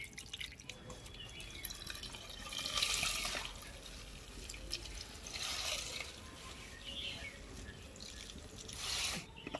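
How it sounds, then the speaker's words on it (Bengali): Water slowly draining and dripping from freshly rinsed chhena cheese, set by vinegar, in a home kitchen, a steady soft trickle with a few brief splashy swells and no talk. "আস্তে আস্তে করে জল ঝরে যাবে।"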